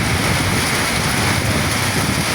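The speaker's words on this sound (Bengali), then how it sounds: "তুমুল বৃষ্টি" Heavy rain pours on the bank of the Teesta river. A dense, unbroken roar of rainfall fills the whole moment at a steady, loud level.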